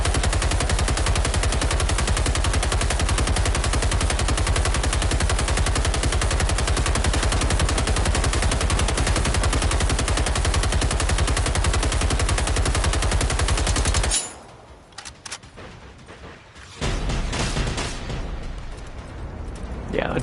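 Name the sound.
gunfire in video game Generation Zero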